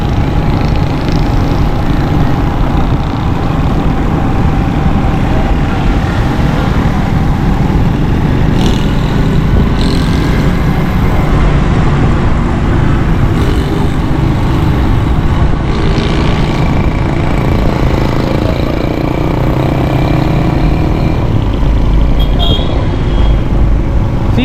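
Dense road traffic jammed near a flooded underpass in Nazimabad, Karachi, gives a loud, constant rumble of engines and tyres with occasional passing vehicles, and a voice talks over it now and then.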